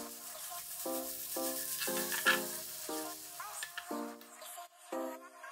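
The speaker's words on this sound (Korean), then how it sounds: "참기름이나 들기름 3스푼, 달달 볶아서 마늘향이 솔솔 올라오면 황태를 넣고 2분 정도 볶았다" Dried pollock stir-fried in sesame oil in a pan over medium-low heat, a steady sizzle with rhythmic clinks and scrapes of stirring repeating about once a second.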